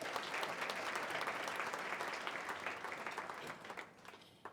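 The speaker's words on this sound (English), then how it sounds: "deserves a round of applause" Applause fills a hall at a railway safety awards ceremony, dense clapping from the audience that gradually thins into scattered claps before fading out.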